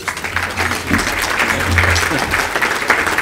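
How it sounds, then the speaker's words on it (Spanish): Applause from an audience at a business breakfast forum with the Spanish Secretary of State for Economy, steady dense clapping filling the room throughout without pause. "a que les invito a que me acompañen con un aplauso"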